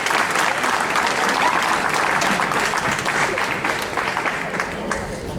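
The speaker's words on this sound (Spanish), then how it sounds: "un fuerte aplauso para Pilar y Verónica" Sustained applause from an audience at a popular tribute event rewards two performers, a dense, steady wash of many hands clapping that holds loud throughout, tapering slightly toward the end.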